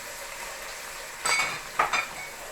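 Saltfish frying in a pan with onion and garlic, a soft background sizzle broken by two brief scraping stirs of a utensil against the pan.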